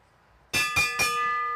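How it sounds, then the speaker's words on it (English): At a track cycling race during a Madison national championship, a lap bell rings three quick clangs in succession, bright and metallic, with the last strike ringing out and sustaining afterward. "Here comes the bell, here comes the bell."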